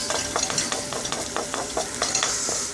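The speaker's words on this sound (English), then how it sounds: "looking through the camera to stir the onions" Onions stirred in a hot pan while cooking Caribbean-style curry lamb, with rapid rhythmic spoon scrapes over a constant close sizzle, loud and alone with no talk.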